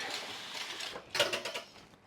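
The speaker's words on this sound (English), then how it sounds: "I'm going to whisk the shit out of this." A hand whisk beating lemon ricotta pancake batter in a bowl, a quick run of close, rhythmic clicking and scraping strokes with slightly louder hits midway and no talking.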